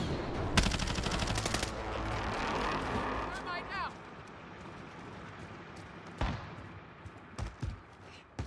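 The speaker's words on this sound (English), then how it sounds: "someone shooting from behind" Gunfire rings out from behind in Call of Duty Warzone: a dense burst of shots early on, then scattered single cracks later, loud and close, with speech mixed over part of it.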